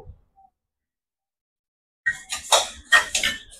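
Urad dal tipped into a dry pan for roasting: a short silence, then a burst of clattering, rattling strikes of grains and a spoon against metal, close and fairly loud.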